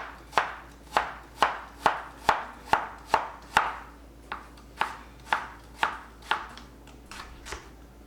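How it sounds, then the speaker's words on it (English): A knife chops onion on a cutting board in a steady run of about fifteen crisp, close knocks, evenly spaced at first and slightly irregular toward the end, with no talking. "I'm basically just gonna mince it down."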